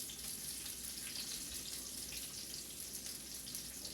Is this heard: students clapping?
no